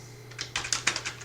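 Quick bursts of keystrokes on a computer keyboard, about half a dozen light clicky taps in rapid succession over a faint steady hum.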